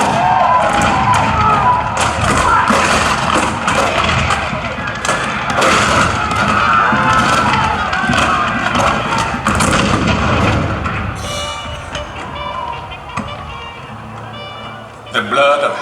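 Cannon fire at Fort Sumter, April 1861, booms as dense, loud, repeated thuds and blasts over a continuous rumbling battle din, with a narrating voice over it.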